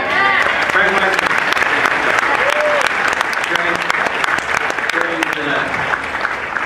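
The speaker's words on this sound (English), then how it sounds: "Greg deserves a big round of applause" Comic-Con panel audience applauding writer Greg Weisman, loud dense clapping with cheers and whoops from a large crowd, sustained for several seconds.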